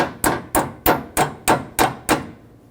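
Seven sharp hammer taps ring out at an even pace, each a crisp metallic knock with a short decay, as a part is driven onto a new AC condenser for a 2008-2020 Dodge Grand Caravan; close and clear with no talking.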